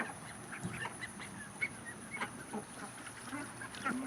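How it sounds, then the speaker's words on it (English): Ducks and geese gathered at a pool give off a busy scatter of quacks and honks, overlapping calls coming at uneven intervals from close by, with steady outdoor background noise beneath them. "who doesn't love a duck pool party?"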